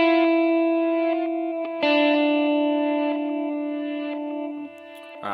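Guitar notes played through a Headrush effects unit's reverse delay with reverb switched off, a few sustained chords with sharp new attacks near the start and middle, ringing steadily and slowly decaying, close and clear.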